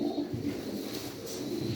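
Soft, low cooing of young pedigree pigeons repeats close by in short throaty phrases over a hushed background.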